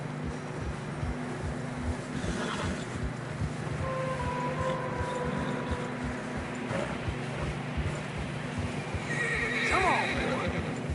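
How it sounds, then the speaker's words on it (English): Horses neigh and whinny over steady hoof clip-clops in the video game Red Dead Redemption 2, with wind noise and a faint voice in the background, in fresh snow. "Horses are getting tired."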